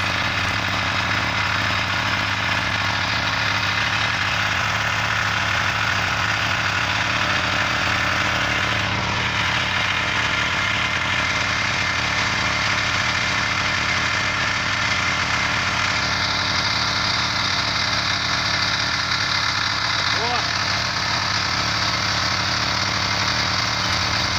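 Homemade log splitter driven by a walk-behind tractor in high gear, a loud, constant engine drone with mechanical rattling and grinding throughout, with brief shifts in tone but no pauses or talk.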